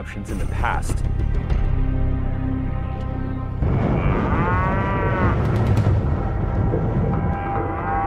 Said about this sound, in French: Cette prairie à vaches à 3 heures de route au nord de Phoenix